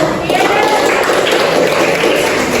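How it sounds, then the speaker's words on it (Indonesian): A roomful of students claps together after a school counseling session, a loud, dense, continuous wash of applause lasting a few seconds with no clear individual claps. "Tepuk tangan untuk kita semua"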